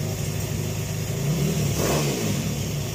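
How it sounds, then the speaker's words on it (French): A small 140cc pit bike engine, already warm, revs loudly and close, its pitch climbing and falling over a steady mechanical drone. "Écoutez les tours."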